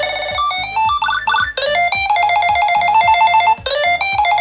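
A KeySmart Pro key organizer's built-in Tile tracker plays its ringtone, a loud, bright electronic melody of repeating high beeping notes with brief gaps, heard alone.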